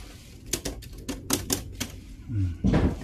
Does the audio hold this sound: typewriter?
yes